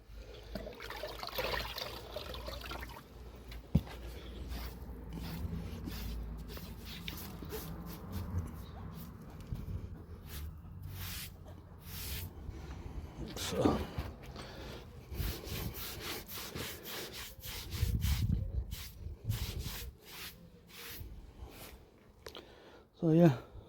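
Wet residue is wiped and scrubbed off newly laid garden patio tiles in long, repeated rasping strokes with faint watery trickles, close by, as a person talks over parts of it.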